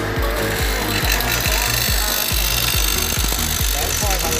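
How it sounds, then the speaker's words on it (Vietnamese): A milling cutter machines metal dry without coolant oil, giving a loud, continuous grinding whir with a rapid, regular pulsing chatter from the cutting teeth, close up and alone. "Phay không dầu anh em nhé."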